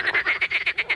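Frogs croak in a village setting in Kaproun, Czech Republic, a fast, even train of about eight rasping pulses in one second, close and clear.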